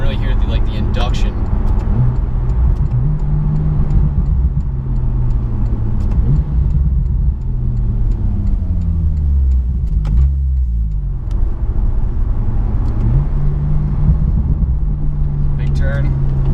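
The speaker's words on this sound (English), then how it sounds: "The engine has a really like good like sort of throaty intake noise too. You can really hear the induction." A 2016 Porsche 911 Turbo S at half throttle, its engine and throaty intake induction droning steadily with rising and falling pitch, heard from inside the car while people talk throughout.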